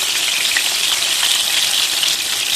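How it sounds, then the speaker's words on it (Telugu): Whole brinjals dropped into hot oil fry with a loud, steady hiss and crackle that holds evenly throughout, close and with no voices. "ఆయిల్ బాగా హీట్ అయిన తర్వాత కాయలన్నీ వేసేసుకోండి."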